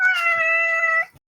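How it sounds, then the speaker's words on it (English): A single cat gives one long, loud, close meow lasting about a second, sustained and tonal before cutting off into silence. "Your cat also wants to get in on the podcast."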